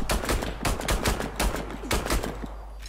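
Rapid automatic gunfire from the Warface shooter game rattles in repeated loud bursts across the whole stretch, with dense overlapping shots and no voices.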